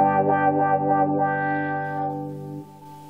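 Electric guitar played through a Dunlop Crybaby 95Q wah pedal without the boost engaged, giving a loud, sustained, harmonically rich chord with a sweeping filtered tone that swells and then cuts off near the end.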